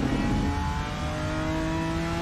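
A GT4 race car engine in the RaceRoom sim racing game drones loud and steady, its tonal harmonics holding under throttle for a couple of seconds with no voices.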